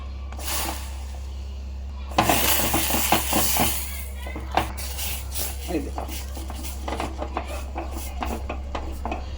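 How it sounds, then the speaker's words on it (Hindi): Rice flour is tipped into boiling water in a cooking pot and stirred, making scraping, knocking and clinking sounds against the pot that start about a couple of seconds in, with a steady low hum underneath. "ये देखो पानी को उबाला गया। अब इसमें डालूंगी आटा।"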